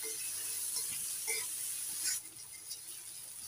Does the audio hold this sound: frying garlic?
yes